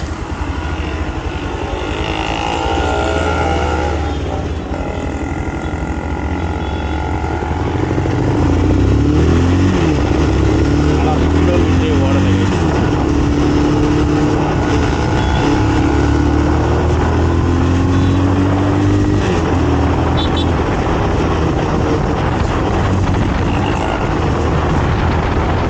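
A 2024 Bajaj Pulsar 220F motorcycle being ridden, its engine droning steadily and loudly throughout with rising and falling revs as it shifts through gears, plus rushing wind noise and no talking.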